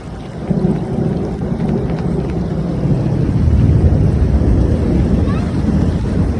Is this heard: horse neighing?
no